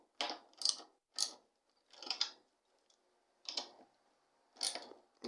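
Tightening the truck nut on a skateboard with a tool: a series of short, crisp ratcheting clicks in small separate bursts with quiet gaps between them, close up and without speech.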